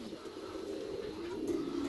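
Pigeons coo in a low, steady murmur of repeated calls through the daytime air, continuous and moderately close, with no talking over them.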